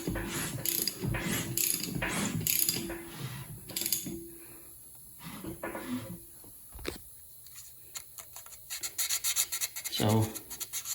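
A hand ratchet cranks over a Ford 445 FE engine in bursts of rapid clicking, pausing with quiet gaps and softer mechanical rubbing before resuming loudly near the end.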